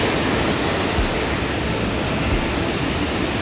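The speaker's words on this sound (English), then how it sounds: "at least we get to stop and look at this beautiful waterfall along the way" Waterfall beside a hiking trail at Gros Morne, Newfoundland, a steady, dense broadband rush of falling water, loud and unbroken for a few seconds with no voices.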